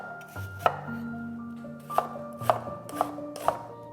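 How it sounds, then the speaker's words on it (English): A knife finely chops an onion on a board, giving a handful of crisp, evenly spaced thuds close up with quiet gaps between, and no voice. "One onion, finely chopped."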